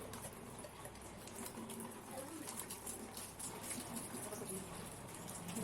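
Aquarium water drains steadily through a siphon pipe, a soft continuous gushing trickle that stays faint and even throughout, with no clear voices.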